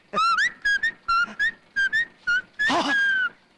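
A person whistles in a movie scene: a run of short, bright whistled notes in quick bursts, several sharp chirps followed by a longer warbling blast, loud and close with no talking.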